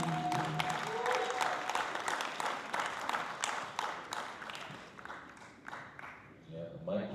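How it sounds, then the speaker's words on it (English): An audience at the Miss Haskell pageant claps for a contestant in a modern talent segment, sharp individual claps rising and thinning over several seconds, with voices talking over them. "So if give a round of applause for Claire"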